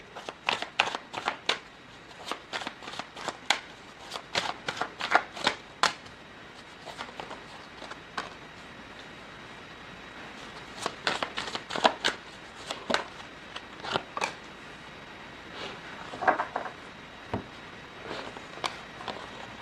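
Tarot cards being shuffled and drawn, with a run of crisp, papery riffles and flicks coming in quick irregular bursts, close up and without talk.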